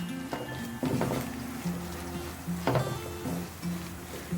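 Coriander and chili powder sautéing in a pan over low flame for Kerala beef curry, with a quiet sizzle and a few scraping, clattering stirs, no talking.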